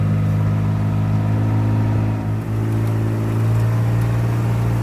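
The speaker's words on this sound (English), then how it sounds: "I'm just kind of driving through the hay field" A vehicle engine drones steadily and close while driving through a hay field on a farm, with a constant low hum and a brief dip partway through, and no talking.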